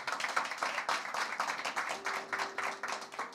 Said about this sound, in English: that's a round of applause, actually.